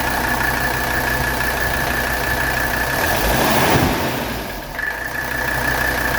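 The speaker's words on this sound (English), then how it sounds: "That's one of the smoothest, best idling 300 SDs I've ever seen in my life." A 1985 Mercedes 300SD diesel engine idles nearby with a steady, even rumble and a faint tonal whine, with no talking.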